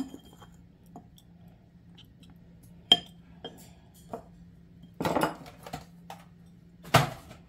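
Gluten-free orange gingerbread batter with ground cinnamon is mixed in a bowl, giving sparse clinks and taps of a utensil against the bowl with a few short clusters of scraping, fairly quiet over a low steady hum.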